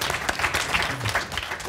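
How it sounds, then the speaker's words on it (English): Short, moderately faint applause from the audience at a data-for-good panel event, scattered claps blending into a soft patter over a couple of seconds. "Round of applause."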